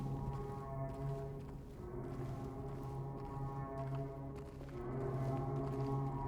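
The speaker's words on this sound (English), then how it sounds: "With this, creepy foghorn." A creepy foghorn sounds in Silent Hill 2 Remake, with low sustained tones repeating through a long, dark descent amid a dim background, steady and somewhat distant.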